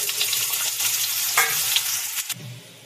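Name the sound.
potatoes frying in mustard oil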